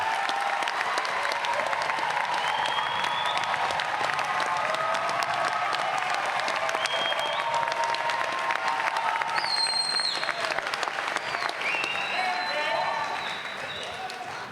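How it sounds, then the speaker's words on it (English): Graduation ceremony audience applauding graduates in a large hall, sustained dense clapping with scattered cheers and whistles that holds steady for the whole stretch before tapering slightly at the end. "let's give them a round of applause"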